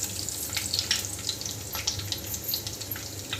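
Whole spices dropped into hot oil crackle and sizzle in a busy, hissing wash with scattered sharp pops, close and moderately loud; no one speaks.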